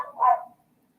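A dog stuck outdoors gives a single short bark or yip, moderately loud and fairly close, then falls silent.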